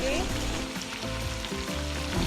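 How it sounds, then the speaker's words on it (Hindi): Potatoes and mutton fry with a steady sizzle in a pot and are stirred gently, the crackle continuous and close, with no talk over it. "गोश्त के अंदर आलू भी भुन चुके हैं।"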